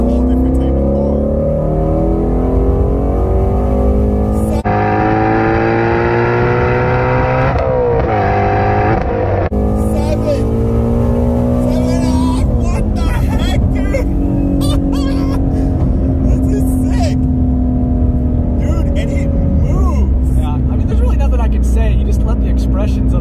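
A Ford Mustang Shelby GT350 driving hard, its V8 loud and close throughout, with rising and falling rev sweeps as it accelerates and shifts, while people talk inside the cabin over the engine.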